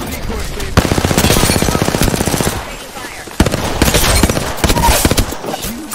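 Automatic gunfire in Apex Legends battle royale trios, rapid sustained bursts in two long volleys with short breaks, loud and close, with game effects layered over the shots.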